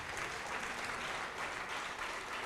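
Congregation at a church worship service clapping steadily, a dense continuous wash of many hands at moderate volume with no voices over it.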